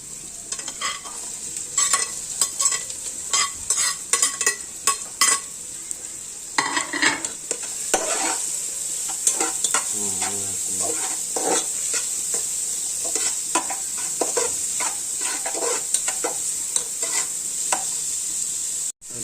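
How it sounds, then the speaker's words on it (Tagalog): Onions sauté and sizzle steadily in a pan, close up. A spatula stirs them with frequent scraping clicks and knocks, and no one talks. "Pasunin natin yung sibuyas."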